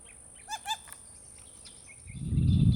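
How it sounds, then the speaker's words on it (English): Two short, bright ringing call notes of a silver-beaked tanager in the Pantanal, close together and clear near the start, followed by a rising low rumble. "The silver-beaked tanager is often seen in groups of 6 to 10, frequently giving a call described as ching."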